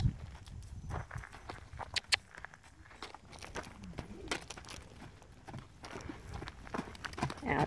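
Hoofbeats of Roy, a horse trotting in a round pen, come as a quick irregular clip-clop of thuds at close range, with scattered rustles and light handling noise.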